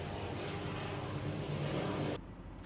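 An airplane passes overhead as a broad, steady roar that cuts off abruptly near the end, with no talking.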